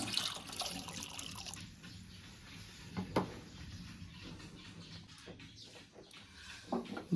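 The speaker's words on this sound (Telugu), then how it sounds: "సాల్ట్ వేసుకున్న తర్వాత వాటర్ అనేది వేసుకోవాలండి" Water splashes and trickles steadily into a cooking pot of salted air potato tubers, with a few sharper clinks and splashes standing out against a faint room background.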